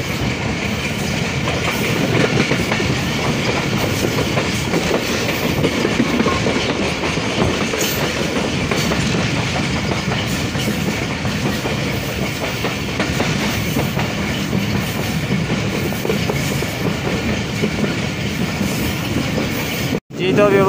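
A passenger train rolls on the Rohri–Karachi line as it approaches Nawabshah railway station, with a steady loud rumble and rail clatter heard throughout and a brief dropout just before the end.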